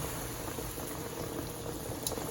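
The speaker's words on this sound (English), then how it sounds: "turkey is boiling" A turkey boils in a pot, giving a steady close bubbling and simmering that runs alone throughout.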